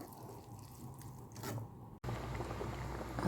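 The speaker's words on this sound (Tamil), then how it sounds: "நல்லா கிளறி விட்டுக்கலாம்." Wet, squishy stirring of an ice apple side dish in a pan, soft and close. Small moist clicks and scrapes come at the start, then a slightly louder, fuller stirring texture follows after a brief drop.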